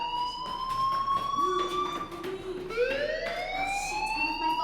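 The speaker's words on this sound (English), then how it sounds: "Hey, do you hear that fire alarm?" A school fire alarm in the video game Life is Strange wails continuously, its rising and falling electronic siren tones sounding loud and steady throughout, with faint background noise beneath and no speech.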